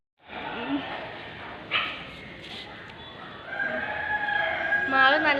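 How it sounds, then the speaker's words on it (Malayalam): A rooster at an old temple crows loudly and close by, its long call rising in the final seconds over an outdoor background with faint clucking. "പഴയ അമ്പലത്തിലെ കോഴിയാണ്."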